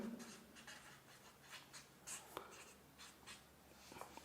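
An equation being written by hand, faint scratchy pen strokes in short irregular bursts, close and quiet with no talking.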